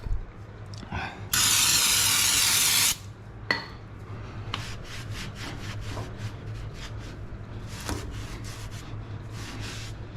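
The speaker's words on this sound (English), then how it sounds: "I'm going to hose this thing down a little bit so I can clean this up just a bit" A hose sprays water over an oily, gritty engine of a 2nd Gen Cummins truck, one loud steady hiss of about two seconds followed by shorter scattered spraying bursts and knocks, close and without talk.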